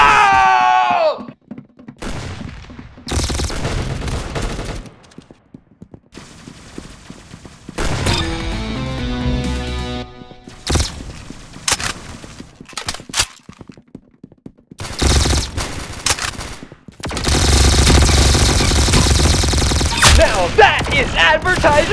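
Gunfire in Roblox comes in loud, rapid bursts and sustained volleys, broken by brief gaps and stretches of other game sound.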